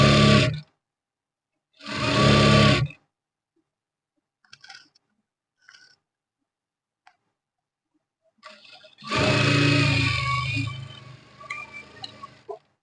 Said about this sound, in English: I'll stitch like this.